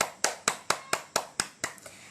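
About nine sharp, evenly spaced hand claps ring out in a classroom, each a crisp separate hit with a short decay, fairly quiet and unaccompanied by talk.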